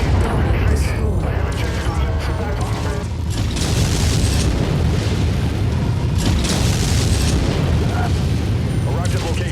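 Missile impacts from MechWarrior explode in dense, continuous booming over mechanical clanking, loud and close, with a voice talking under the blasts.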